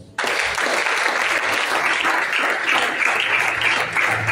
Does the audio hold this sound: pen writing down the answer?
no